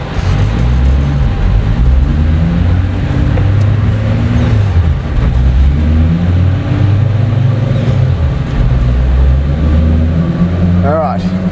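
A 400-horsepower RB30DET-powered Nissan Patrol runs hard on a dyno, its engine droning loudly and continuously with rising and falling tone under heavy boost, ending with a brief high chirp.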